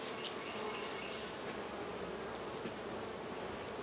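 Honey bees swarm around an open hive, a dense continuous buzzing hum from many insects close by, steady and unbroken with no voices.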